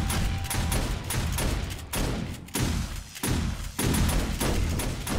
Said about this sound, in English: the turrets up here are going off